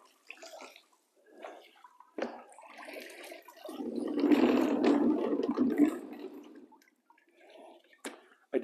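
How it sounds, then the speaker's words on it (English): A wet mop carrying only water swishes and splashes across an epoxy garage floor in a few separate strokes, with one longer, louder wet wipe in the middle and quiet gaps between. "this is just a wet mop, water only."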